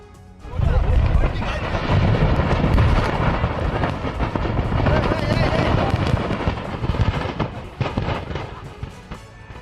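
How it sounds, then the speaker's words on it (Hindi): Loud, continuous blasts and crackling from explosions at a firecracker factory in Sattur, Tamil Nadu, a dense chaotic roar lasting throughout with rumbling bursts and possible voices mixed in. "धमाकों की आवाज और इस आवाज के साथ आसमान में उठता यह धुआं।"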